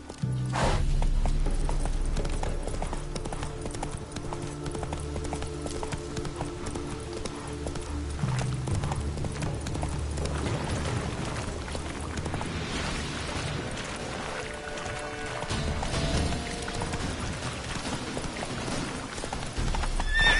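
Roach the horse galloping in The Witcher 3 on PS5, with a continuous rhythmic clatter of hooves over a low rumbling game backdrop, steady and fairly loud for the whole stretch.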